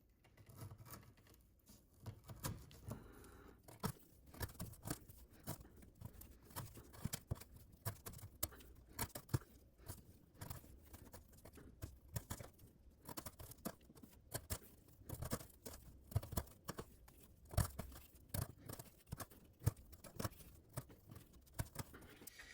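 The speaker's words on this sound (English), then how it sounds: "now we're gonna try to cut this 3/8 twisted sisal rope" A Chaves TAK flipper knife slices through 3/8 twisted sisal rope in a long series of repeated short cuts, each a crisp fibrous snap or rasp, quiet and close with uneven rhythm and no talk.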